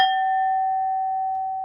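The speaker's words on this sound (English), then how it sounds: "I'm gonna ring the bell," A single bell struck once to clear entities rings out clear and loud, its pure tone sustaining and slowly fading with no other sound.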